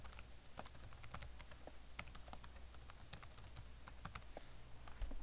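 Computer keyboard typing at a desk as a name and email address are entered, with quiet, irregular clicks of keystrokes in quick bursts and short pauses throughout.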